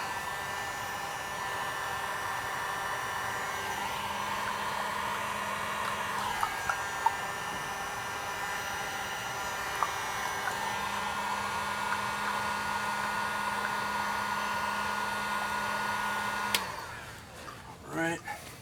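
A heat gun blows hot air onto the carburetor rack of an inline four-cylinder motorcycle, a steady, close, broadband roar with a faint hum that runs unbroken for most of the span before cutting off near the end.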